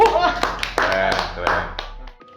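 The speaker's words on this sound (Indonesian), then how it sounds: "Tepuk tangan dong." Several sharp applause claps ring out irregularly over steady talking, close and moderately loud.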